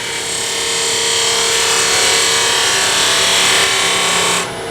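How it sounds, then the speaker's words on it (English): Skew chisel cutting the end of a wooden tool handle spinning on a lathe, a steady loud hiss and whir of shaving wood held evenly for about four seconds before stopping abruptly. "I could use my skew chisel, I suppose, at least to clean up this end."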